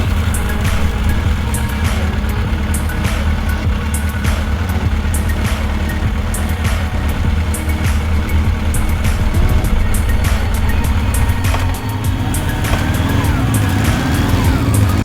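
Continuous motor vehicle road noise, a steady engine drone and rushing wind roar with faint ticks and rattles, loud and unbroken throughout, as if recorded while riding a motorcycle on an open highway.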